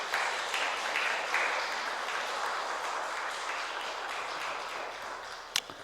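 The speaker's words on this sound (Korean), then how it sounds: "우리가 박수로 한번 격려해 드립시다" Church congregation clapping together during a Sunday afternoon service at a Baptist church in Daegu, a steady wash of many hands that holds at an even level for several seconds, with one sharp tap near the end.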